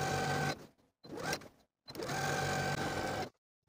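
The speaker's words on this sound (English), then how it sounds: "we can stitch the facing from the collar seam, edge stitching close to that folded edge, all the way down to the bottom of the dress" A sewing machine edge stitches close to the folded facing edge of a dress, running from the collar seam down to the hem, in three steady runs of motor whir broken by short pauses.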